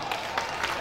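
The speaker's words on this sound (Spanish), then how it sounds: "Fuerte el aplauso para esta tanda" Audience at a children's and youth coffee-tasting contest at the Planadas town fair applauds in a brief, steady burst of dense clapping, with a voice faintly mixed in.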